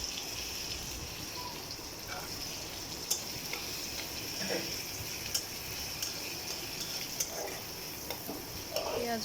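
Onions frying in a little oil for a potato fry, giving a steady, close sizzle. Occasional light scrapes and taps from stirring break through it, and nobody talks.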